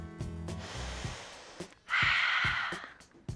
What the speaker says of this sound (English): 2 more long, deep breaths.